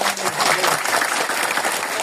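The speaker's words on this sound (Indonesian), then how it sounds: "Tepuk tangan dulu dong." Audience at a community police coffee gathering in Ciputat, Tangerang Selatan, claps in a dense, steady burst of applause that stays loud for the whole moment without pause.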